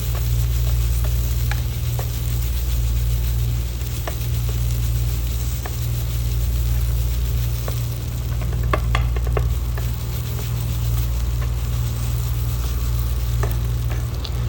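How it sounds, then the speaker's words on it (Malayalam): Chicken masala filling is mixed in a bowl for an egg snack, with scattered light clicks and scrapes of stirring over a steady low background hum. "നന്നായിട്ട് മിക്സ് ചെയ്യാം ചിക്കൻ മസാലയൊക്കെ പിടിക്കുന്ന വിധത്തിൽ നന്നായിട്ട് മിക്സ് ചെയ്തെടുക്കാം"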